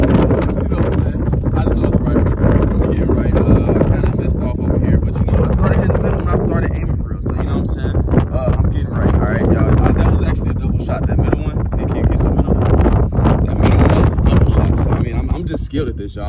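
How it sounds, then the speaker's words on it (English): Heavy outdoor wind buffets the microphone throughout, a constant loud rumbling roar, with a voice partly buried beneath it. "I know it's real windy, y'all can barely hear me."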